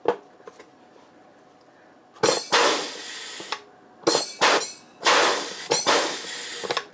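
Spent rivet tails being emptied out of a rivet tool, a few light clinks followed by bursts of loud metallic rattling and shaking, close by, with pauses between.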